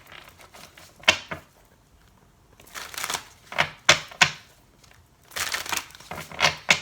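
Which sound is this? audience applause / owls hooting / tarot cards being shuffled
tarot cards being shuffled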